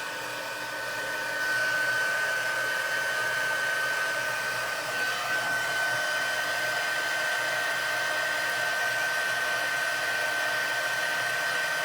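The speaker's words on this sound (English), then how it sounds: "I'm going to heat up my stamp tool, or my heat tool." A heat embossing tool blows hot air in a steady, loud whirring hiss with a thin high whine, switching on and then running unbroken close by, with no talking.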